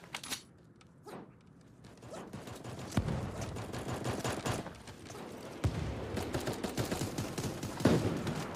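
Gunfire in Super Animal Royale, a quiet start building into rapid bursts of shots with sharp individual cracks, busy and fairly loud through the second half.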